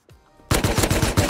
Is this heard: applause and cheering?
no